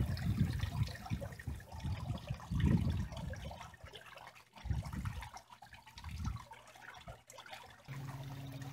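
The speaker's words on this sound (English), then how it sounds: "back to the waterfall." Water from a small waterfall splashes and trickles outdoors in a low, uneven burble that swells and recedes, fairly faint and close by, with no talking.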